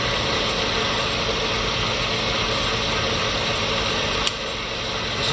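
A Comet 2 HP 9 x 42 inch vertical milling machine runs its power feed with a steady mechanical whir and gear hum, close and loud and constant, with a brief click near the end.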